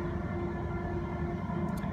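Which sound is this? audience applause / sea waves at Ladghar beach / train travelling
train travelling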